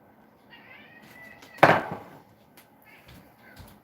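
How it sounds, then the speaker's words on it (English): A domestic cat lets out one loud, sharp meow near the middle, with softer vocal sounds around it and a few faint knocks in an otherwise quiet room. "I've got a kitty complaining this morning"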